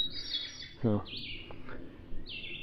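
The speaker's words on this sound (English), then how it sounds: "Now let's listen to these birds." Birds chirp and sing outdoors at a campground, with several short high tweeting phrases spread across the moment over quiet background, and a brief spoken word from a person in the middle.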